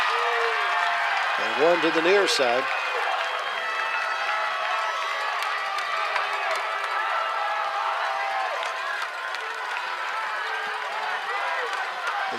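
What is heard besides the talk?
football crowd cheering on 4th down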